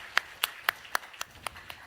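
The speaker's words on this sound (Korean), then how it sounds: "하나님께 영광의 박수 올려드리겠습니다" A church congregation claps together in a steady, even rhythm, about seven crisp claps in under two seconds, with no talking.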